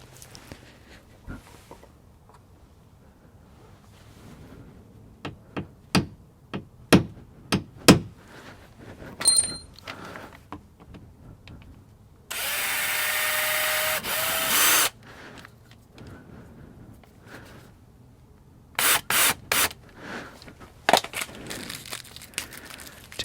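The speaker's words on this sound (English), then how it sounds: "we're going to center punch it, and then we're going to drill it with a 3/32 inch drill" Sharp center-punch taps ring out one after another, then a power drill with a 3/32 inch bit whines steadily for a few seconds, followed by more short drill bursts and clicks.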